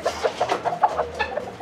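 Nagasaki chickens cluck close by in a quick, regular series of short, soft calls, with no talking.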